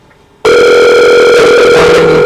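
Telephone sounding a loud steady electronic tone that starts abruptly after a quiet moment and holds unbroken, close and alone with no talk over it.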